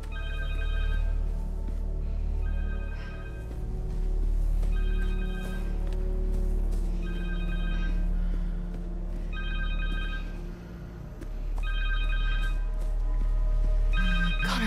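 A phone rings in Marvel's Spider-Man 2, with six bright ring bursts repeating at a regular pace over a low, rumbling musical bed.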